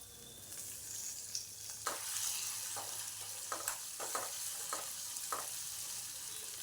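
Tomatoes for sambar fry in a hot pan with a steady bright sizzle, punctuated by several sharp scraping stirs of a spoon at irregular intervals, close and continuous with no talking.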